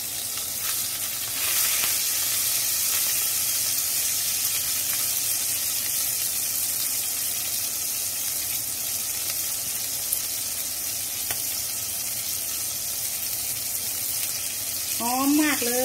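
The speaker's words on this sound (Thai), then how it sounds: "ใส่พริกแห้งลงไปทอด" Dried chillies fry in hot oil in a wok while cooking broccoli with salted fish, giving a steady, close sizzling hiss throughout, with a brief voice near the end.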